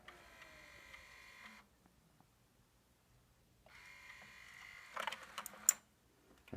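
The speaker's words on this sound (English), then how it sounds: "let's go ahead and hit the eject button" A 1980s Japanese VHD videodisc player ejecting its disc: a faint mechanical whirring motor run, a pause, a second whirr, then soft clicks and clunks of the mechanism, all close and quiet with no talking.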